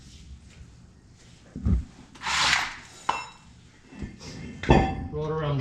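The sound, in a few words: brake rotor being set down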